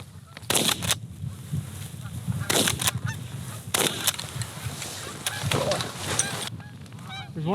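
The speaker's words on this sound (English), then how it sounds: "Oh, there's geese in front, geese in front." Geese honk loudly in repeated bursts during a North Dakota hunt, several calls close by and overlapping, with quieter honking and wing noise between them.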